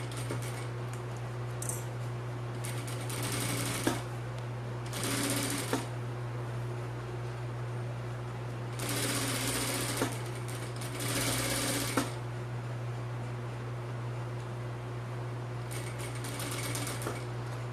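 Sewing machine stitching the seam of a beach bag in several short, rapid bursts separated by pauses, set against a steady low hum.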